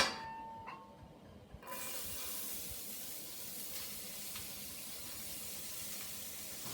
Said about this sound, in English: droplets of water sizzle when they hit the pan